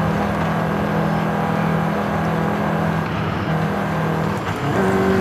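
Steady engine drone of a 2021 VW Golf R all-wheel-drive car under way, a loud sustained hum with a constant low tone and road noise throughout and a slight pitch shift near the end.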